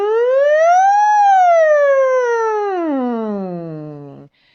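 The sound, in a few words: voice imitating a siren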